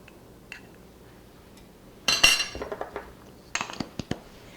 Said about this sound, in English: we're going to go ahead and give this a stir, get this all combined